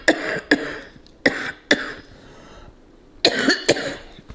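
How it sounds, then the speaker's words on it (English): A person coughs repeatedly in short bursts, several quick coughs, a pause, then another cluster of harsh coughs close by. "I'm still coughing, but I'm doing a lot better since I got my medication."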